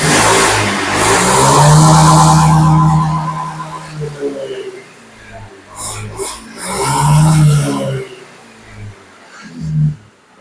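Honda Beat scooter engine, just fitted with a new throttle position sensor, revs up hard twice with throttle pulls, each burst rising and falling, close and loud, with a short blip at the end and some voice mixed in.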